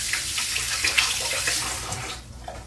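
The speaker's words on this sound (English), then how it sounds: "I'm going to rinse my hands real quick" Water runs steadily from a kitchen tap while hands are rinsed, a close, even splashing hiss that tapers off near the end, with no talking.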